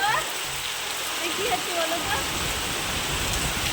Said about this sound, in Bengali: এই যে ছাদ থেকে জল পড়ছে দেখো